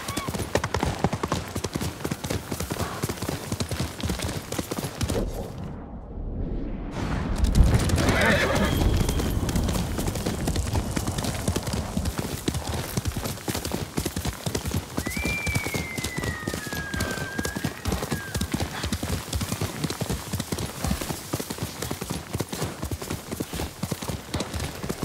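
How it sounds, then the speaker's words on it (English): A horse gallops in a video game with continuous rapid hoofbeats and a whinny partway through, over a dense wash of rain-like noise and ambience. "You're a good horse, Noble."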